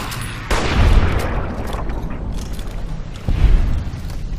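Gunfire in Fallout New Vegas: two heavy, booming shots spaced about three seconds apart, each with a long rumbling decay that fills the gap, loud and close with no talking.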